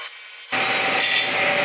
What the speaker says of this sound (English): And once we cut one letter like this, we can cut all the same letters.